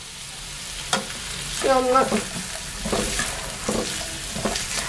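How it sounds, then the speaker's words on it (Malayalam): Chopped large onion sizzles and fries in a hot pan for an evening iftar snack, with steady frying hiss and a few stirring scrapes, close and fairly loud, a brief spoken word over it. "ഞാനൊരു വലിയ സവാള കൊത്തിയരിഞ്ഞിവിടെ വെച്ചിട്ടുണ്ട്. ഇതിലോട്ട് ഇട്ട് കൊടുക്കാം"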